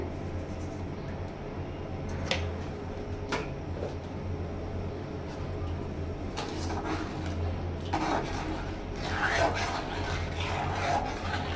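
A spoon scrapes and rubs around a pan of homemade tomato sauce as it is stirred, soft scraping strokes that come in short clusters over a steady low background hum, with a voice speaking at times.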